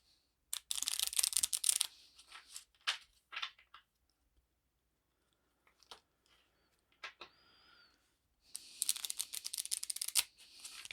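Playing cards being shuffled for a Quick Strike Football tabletop game, two bursts of crisp riffling rustle at the start and end with scattered card taps and small clicks between, close and fairly quiet.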